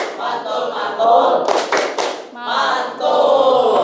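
A classroom of pupils does the rhythmic "tepuk mantul" clap, a short burst of sharp, close claps in the middle of group chanting.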